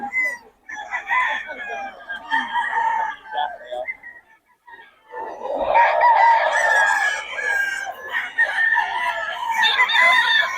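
Several chickens cluck and a rooster crows repeatedly in Bocaue, close by and fairly loud, with the calls overlapping and growing busier in the second half.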